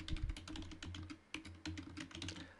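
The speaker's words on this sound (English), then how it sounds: "I'm just going to go to the address bar and type in" Rapid keystrokes on a computer keyboard as a web address is typed into a browser's address bar, a steady close run of clicky taps with a brief pause midway.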